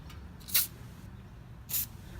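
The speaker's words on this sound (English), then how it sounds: "we're going to use some penetrating oil here just to break loose some of this this screw here" Two short hissing bursts of aerosol penetrating oil sprayed onto a rear brake screw of a 2006–2011 Honda Civic Si, about a second apart, over quiet background.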